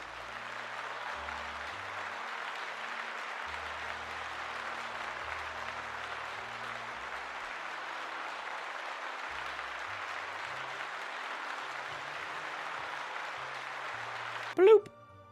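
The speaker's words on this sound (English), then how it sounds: "let's give Urban Hangman a round of applause" A round of applause fills most of the stretch, with steady, even clapping at moderate level that stops abruptly with a brief sharp sound at the end.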